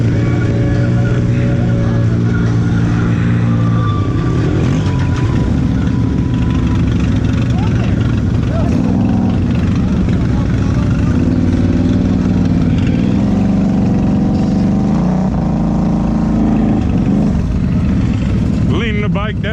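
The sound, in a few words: Can-Am Outlander XMR 1000 ATV engine revving in deep mud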